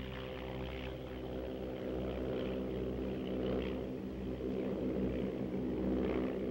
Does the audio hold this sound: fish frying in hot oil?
no